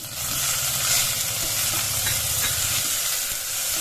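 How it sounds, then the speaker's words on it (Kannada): Tomatoes and onions fry over a medium flame for khara bath, a loud continuous sizzle and hiss with faint stirring, no talking. "ಎಲ್ಲನೂ ಮೀಡಿಯಂ ಫ್ಲೇಮ್ ಇಟ್ಕೊಂಡು ಫ್ರೈ ಮಾಡ್ಕೊಳ್ಳಿ"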